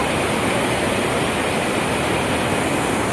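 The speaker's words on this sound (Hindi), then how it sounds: "कितनी तेज बहाव है नदी का" The fast-flowing river near Gaurikund on the Kedarnath route makes a loud, steady rushing roar, dense and unbroken throughout.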